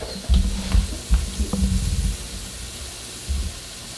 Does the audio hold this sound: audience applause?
no